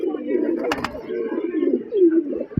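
A pigeon coos in low, rolling murmurs close by, with a couple of brief knocks midway and a voice faintly present.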